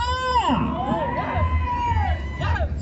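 A crowd at an Ongole bull race shouts and cheers, with a loud voice calling out over the noisy gathering throughout.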